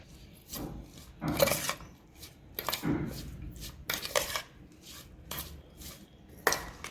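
Bread pudla batter with green coriander being stirred by hand in a bowl, giving repeated short scraping and rubbing strokes in an irregular rhythm, close up and fairly quiet with no talking.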